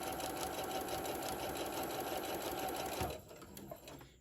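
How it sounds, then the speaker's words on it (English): Sewing machine stitching straight across the top of a book-shaped pillow, a loud, steady rapid whir for about three seconds before it stops abruptly, leaving quiet handling sounds. "I'm just going to keep sewing right across the top."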